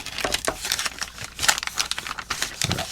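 An MRE beef in savory tomato sauce entree pouch crinkles and crackles in close, irregular bursts as it is squeezed and massaged, with sharp ripping near the end as the tear notch is opened.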